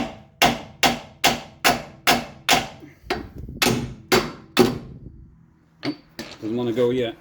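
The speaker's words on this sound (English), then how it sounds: "I got a proper hammer." A hammer strikes the greasy lower ball joint of a Triumph TR7 in a steady series of loud metallic blows, a short pause, then a few more hits before a voice speaks.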